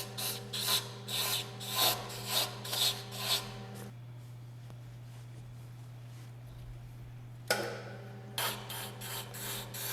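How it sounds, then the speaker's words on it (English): Wood lathe turning tool cutting a series of grooves into a spinning workpiece, giving rhythmic bursts of scraping and rasping over a steady motor hum, pausing for a few seconds mid-way before the cuts resume, close and moderately quiet, no talking. "Here I'm using the same turning techniques as can be seen in the Centering a Chuck video. Cutting a series of grooves."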